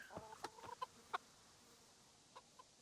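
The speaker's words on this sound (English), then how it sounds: "feeding the chickens" A few quiet, scattered hen clucks in short bursts from the video game Kingdom Come: Deliverance, fairly faint against a soft background hiss.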